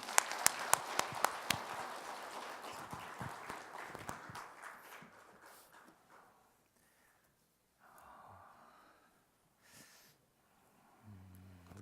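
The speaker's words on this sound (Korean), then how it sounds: "우리 하나님께 영광의 박수 올려드립니다." A church congregation at a Korean revival meeting applauds, with a burst of scattered clapping for the first few seconds that fades into near silence, leaving faint shuffling sounds.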